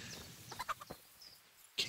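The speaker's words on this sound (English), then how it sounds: "Oh, some chickens." Chickens cluck faintly in Kingdom Come: Deliverance, a few short, soft clucks scattered over quiet game ambience, with a sharper chirp near the end.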